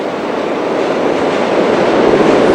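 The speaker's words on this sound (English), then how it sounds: "that's a westbound Canarsie Line train for 8th Avenue starting up the hill now" A westbound Canarsie Line subway train on a New York elevated line starts up a hill with a steady, rumbling roll of wheels on track, fairly close and alone.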